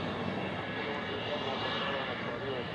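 Aircraft engines at Nashville International Airport, a steady, moderately loud drone of jet noise heard alone throughout.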